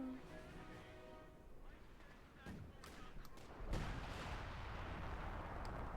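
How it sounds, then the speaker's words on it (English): Howitzer artillery fire in Company of Heroes 2, with a sharp blast near the start and a deeper boom later, both ringing over a steady rumble of battlefield noise. "Howitzer firing again."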